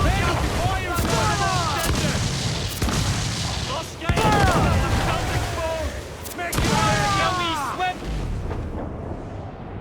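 Naval cannon fire in the video game Assassin's Creed IV: several heavy booms ring out amid a continuous din of battle, with voices shouting throughout.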